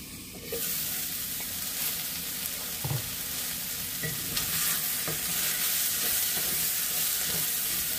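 Onion and tomato sauté in a pan for matar paneer. A bright sizzling hiss starts suddenly and holds steady, with a few light spoon clicks and stirs.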